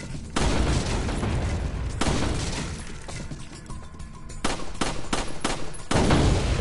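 Repeated loud gunshots ring out at the Resident Evil 4 shooting gallery. Sharp cracks arrive every second or so, with echoing tails filling the gaps between them.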